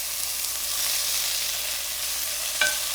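Italian sausage browning in a pan for shepherd's pie, giving a steady close hiss of frying with a single brief metallic clink near the end.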